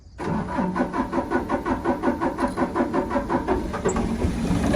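Sonalika Tiger 4x4 tractor engine cranking and catching, a close, rhythmic pulsing chug that steadies into running, with no voices.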